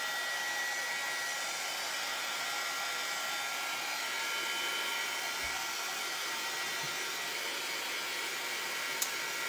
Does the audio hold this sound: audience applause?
no